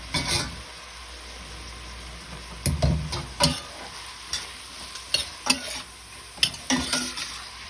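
Onions, red pepper and salt fry in a pan for rice and tomatoes, a steady sizzle broken by repeated scraping stirs of a utensil against the pan, with no talk.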